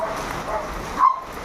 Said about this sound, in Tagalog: Grabe, pati itong mga aso.